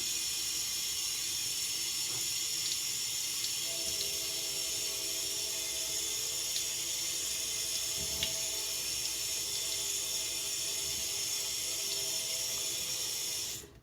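Cold water runs steadily from a tap into a sink, a constant broadband hiss that holds even and close throughout before cutting off at the end.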